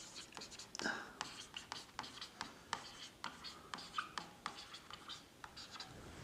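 Pen or chalk writing numbers by hand during a class 3 maths lesson on ascending and descending order, heard as quick scratchy strokes and taps in irregular bursts, close but quiet.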